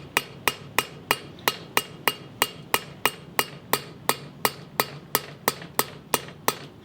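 An old bearing roller being hammered to drive a pinion plug into a 9.3 Pontiac rear axle housing, about twenty sharp metallic taps in a steady even rhythm, close and alone.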